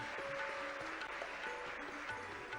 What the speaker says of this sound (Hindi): आपकी तालियां भरपूर बजनी चाहिए।